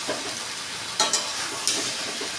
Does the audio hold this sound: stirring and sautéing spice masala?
yes